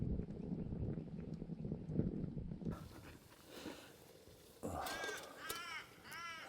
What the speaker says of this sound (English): The crows here. They're into it early.